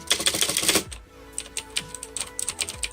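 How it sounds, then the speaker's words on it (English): Typing on a Gamdias P1 RGB mechanical keyboard with soft blue switches: a close, loud flurry of rapid clicks, a brief pause, then irregular individual keystrokes clacking one after another. "this is basically one of the keyboards that I was looking for that has a soft blue switch where it doesn't feel super stiff"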